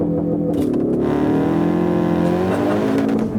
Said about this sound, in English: floor the throttle and drop the clutch, and off you go.